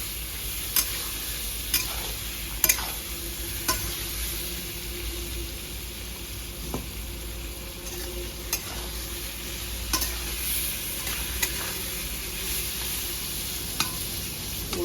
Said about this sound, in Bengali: বেগুন বেশি ভাজবো না, হালকা করে ভাজবো বন্ধুরা।